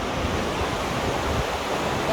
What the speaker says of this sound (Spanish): acá pasa un río